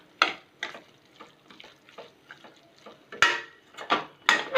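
A spoon stirs and sautés a masala of cashews in a pan for a paneer gravy, giving a run of scraping strokes and light clinks at an uneven rhythm, close and fairly quiet, with no talking.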